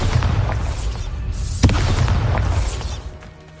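A Bombarda blasting spell explodes in Hogwarts Legacy, one sharp boom over a low, continuous rumble that slowly fades.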